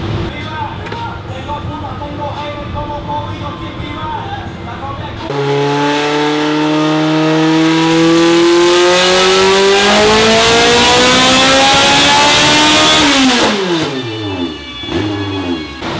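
All-motor Honda Civic built to about 400 hp revving on a dyno, a loud engine climbing steadily in pitch for several seconds before cutting off sharply, then settling back to a lumpy idle, with faint talk beforehand.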